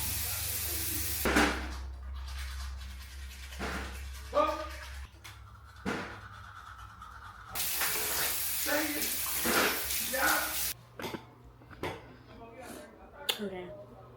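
A bathroom tap runs steadily into a sink while someone brushes their teeth, the close, hissing water flow continuing with brief interruptions and occasional voices.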